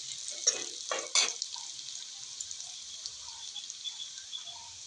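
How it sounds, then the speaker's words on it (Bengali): Onion and garlic are fried and stirred in a pan until brown, with a few scraping stirs at the start, then a faint, soft sizzle in a quiet room. "এখন পেঁয়াজ আর রসুনটা বাদামি কালার করে ভাজতে,"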